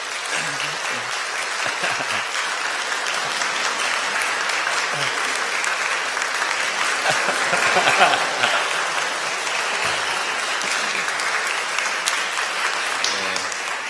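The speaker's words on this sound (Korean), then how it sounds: "여러분들 환영의 박수 부탁드립니다" A church congregation applauding during a Sunday worship service to welcome a mother and her newborn twin daughters, with sustained, even clapping filling the room and a voice talking faintly beneath it.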